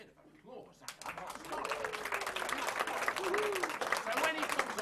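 Audience applause at an old-time music hall show begins after a brief pause, building into steady clapping while a voice keeps talking over it.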